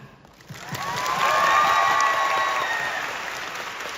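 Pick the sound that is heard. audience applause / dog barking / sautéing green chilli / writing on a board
audience applause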